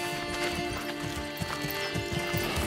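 Horse hooves clip-clop in a steady walking rhythm in the medieval village game Manor Lords, with quieter ambient layers underneath and no talking.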